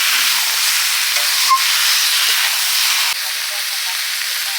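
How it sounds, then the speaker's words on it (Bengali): Mutton curry in a pot over a wood-fired oven sizzles in a loud, steady, bright hiss as fried potatoes go in, with brief faint voices in the background. "ভেজে রাখা আলুগুলো দিয়ে দিচ্ছি।"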